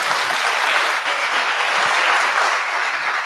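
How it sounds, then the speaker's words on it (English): An audience applauds in a hall at a mentorship programme event, a dense, even wash of many hands clapping at once, loud and sustained for the whole few seconds with no voices over it. "Can we give a better round of applause?"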